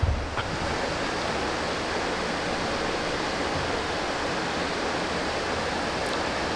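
Rushing river water flows steadily along a rocky bank, a loud, continuous broadband roar with no breaks and no voices.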